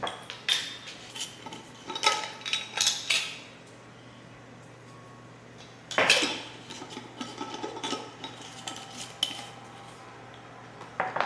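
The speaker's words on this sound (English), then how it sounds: "now I'm gonna add 2 teaspoons of just regular white sugar, and then just a little bit of salt" A teaspoon scoops regular white sugar and a little salt into a bowl, with clinking metal-on-bowl taps and scraping in two clustered bursts separated by a quiet pause, close and clear.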